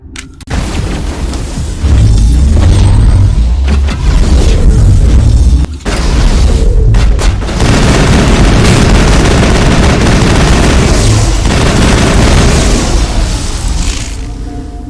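Loud, dense video game combat from Mass Effect, with heavy booming explosions and bursts of gunfire rolling continuously, a brief drop near six seconds, then sustained firing and blasts to the end.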